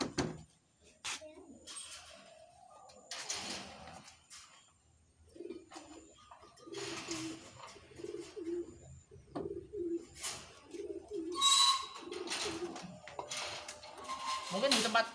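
Pet pigeons coo in soft repeated rounds near a feeder, with the calls recurring under and between a person talking throughout.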